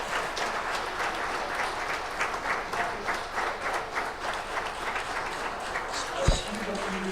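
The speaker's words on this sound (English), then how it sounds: "Let us give a round of applause to our expert." Seminar audience applauding steadily at a law, politics and economy conference, a dense, even wash of many hands clapping for several seconds, with a brief louder bump near the end.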